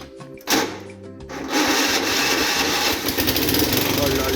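A vehicle engine cranks and fires up, settling into a steady, loud, buzzing run up close, with someone talking over it at the start.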